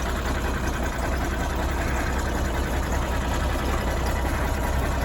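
A Massey Ferguson 1105 tractor engine cranks over steadily on a rebuilt starter, a fast, even churning rhythm held close and loud for the whole stretch with no speech over it.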